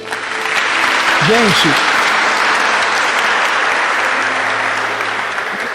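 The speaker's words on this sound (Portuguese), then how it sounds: "Aplaude-se, Jesus" Loud, sustained applause from a Catholic prayer gathering audience, a dense wash of clapping throughout, with a man briefly calling out to the crowd early on and faint singing tones in the background.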